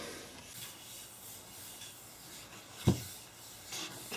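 A walnut AR rifle stock is rubbed by hand with finish, a faint, soft, continuous scuffing with one brief louder knock partway through.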